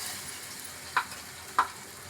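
Gravy for a paneer and cashew curry frying in a pan, a faint, even sizzle with two brief stirring scrapes partway through, and no voice heard.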